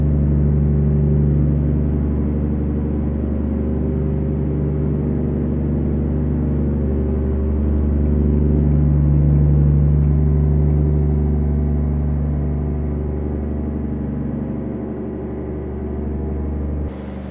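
Steady, loud diesel engine drone of an International 9800 cabover truck in American Truck Simulator, a deep continuous rumble that holds nearly level throughout with slight swells as it cruises, with no talking.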